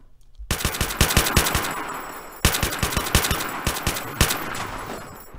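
Rapid bursts of gunfire in a Minecraft Walking Dead server game, loud sharp shots in quick clusters, a pause, then more volleys close up, with no talk.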